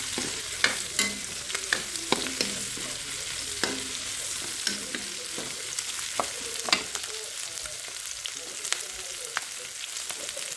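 Pork dinuguan with ginger stirred and sizzling in a wok, a steady close sizzle broken by repeated scraping and clinking of a utensil against the pan, no voices.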